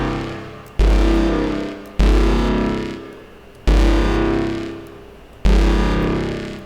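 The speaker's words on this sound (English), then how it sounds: "Next is going to be some reverb." Four heavy cinematic synth braams from a Serum patch, each hitting hard, then decaying over about one and a half seconds with small-room reverb. They are evenly spaced, loud and distorted, with no voice.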